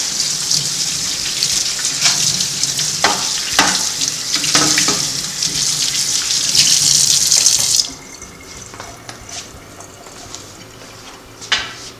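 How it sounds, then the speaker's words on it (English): A pan washed under a running kitchen tap, loud close splashing water for about eight seconds, then the flow stops, leaving quieter clatter and a final knock. "I think I'm going to wash my pan."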